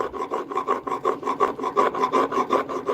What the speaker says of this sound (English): if I was using two hands on this chisel, it would work much faster